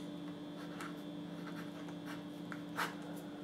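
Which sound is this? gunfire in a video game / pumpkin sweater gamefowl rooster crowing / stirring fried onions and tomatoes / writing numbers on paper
writing numbers on paper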